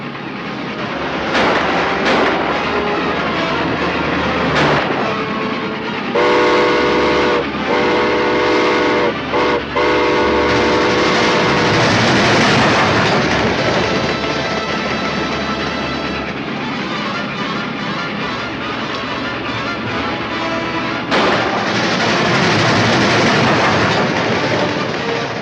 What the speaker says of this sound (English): I can cut in front of that train and lose him.